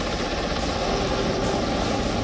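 Mi-17 and Chinook military helicopters fly over the Chandigarh Air Force Day air show, producing a loud, continuous rotor and engine drone with no voices.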